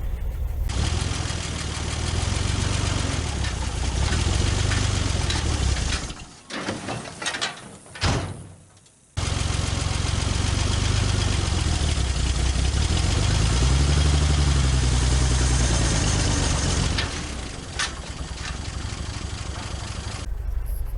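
A 1961 GMC K1500 truck, left sitting for 15 years, runs loud and close in gear while stuck: a steady engine drone that drops away and cuts out briefly, then roars back at rising revs.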